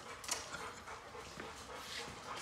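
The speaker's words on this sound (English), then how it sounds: "How do we have four dogs?" Several dogs, fresh from a kennel, panting and whimpering softly indoors, a faint continuous breathy huff with small whines over a low background hum.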